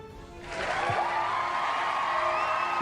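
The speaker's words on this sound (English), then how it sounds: "you just hear a roar of applause" A crowd roar with applause swells up after a brief quiet start and then holds as a broad, steady wash of cheering and clapping, somewhat distant and fairly soft.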